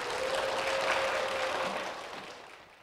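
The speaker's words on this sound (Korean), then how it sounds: "박수로 모시겠습니다." Church audience applause welcomes the pastor's wife onto the stage, a steady wash of clapping lasting under three seconds that fades out at the end, moderately close with no talk.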